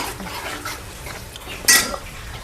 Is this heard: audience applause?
no